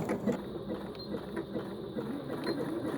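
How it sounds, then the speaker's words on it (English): Janome DC6050 sewing machine running steadily on long stitches, an even, quick mechanical clatter of needle and feed, close and alone without talk. "So 5 mils, this is going to be quite a long stitch. It'll do a lock stitch to start."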